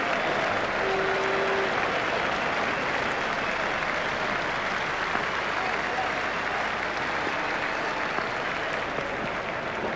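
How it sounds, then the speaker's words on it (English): Steady crowd applause fills a stadium in a cricket video game, a dense continuous clapping roar at moderate level that holds without a break throughout. "Boucher raises his bat to the crowd to acknowledge the applause."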